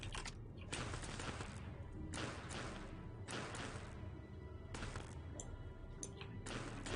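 Turrets firing in Fallout: New Vegas, bursts of loud rapid gunfire repeating every second or so, each a broad harsh crackle, continuing without voices.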